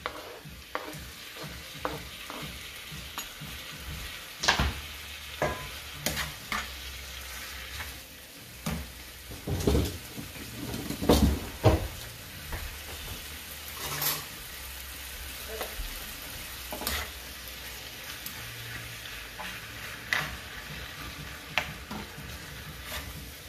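Tofu sizzles softly in a pan over medium heat, with a steady frying hiss broken by scattered clicks and scrapes of stirring, moderately close and fairly quiet throughout.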